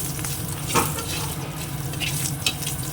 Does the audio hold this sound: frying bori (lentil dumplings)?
yes